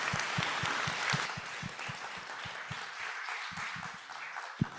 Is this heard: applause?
yes